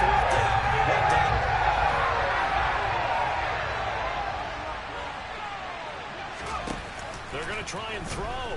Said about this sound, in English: That's some applause for the defense there.